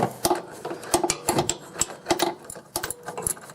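A bolt being run down by hand with an ordinary wrench while fitting a towing hitch on a 2001 Infiniti QX4, heard as a close series of quick metallic clicks and ratcheting taps in an uneven rhythm, with no talking.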